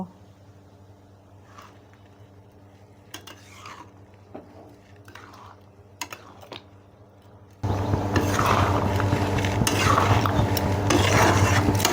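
A spoon stirs and mixes ingredients for vegetable navratan korma, with scattered scraping clinks at first, then a louder continuous sizzling stir in the latter part.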